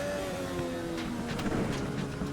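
Modified race cars lapping Slinger Speedway, a steady distant engine drone with a slight swell as cars pass, faint and continuous under crowd ambience.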